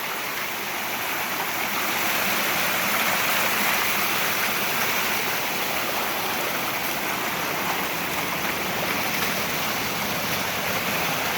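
A small waterfall pours and splashes in a steady, full rush of water, close and continuous throughout with no voices.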